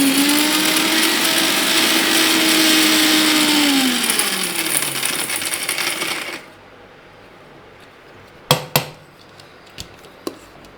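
An electric mixer grinder pulverising grains for sathu maavu roars loudly and steadily, its pitch sagging as the motor winds down and cuts off, followed by a few sharp clattering knocks of the jar or lid.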